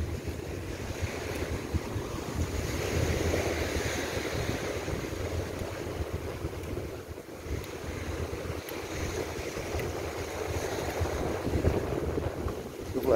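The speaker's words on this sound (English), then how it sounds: "Where they have high winds right now." Strong wind and pounding surf at Chaweng Beach on Koh Samui, Thailand, roar steadily and loudly throughout, with constant wind buffeting on the microphone and no voices.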